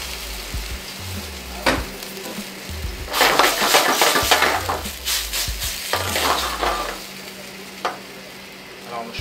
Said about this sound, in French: Alors, on est prêt à mettre un peu de vin blanc